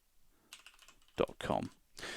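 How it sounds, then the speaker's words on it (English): Quick bursts of keystrokes on a computer keyboard as a web address is typed, soft clicks in short runs, close and fairly quiet, with a voice speaking briefly over them. "So I type in here facebook.com."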